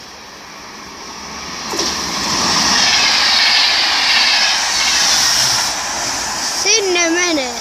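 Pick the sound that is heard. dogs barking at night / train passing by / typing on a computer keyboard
train passing by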